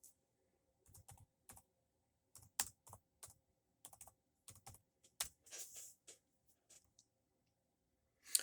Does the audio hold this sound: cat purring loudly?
no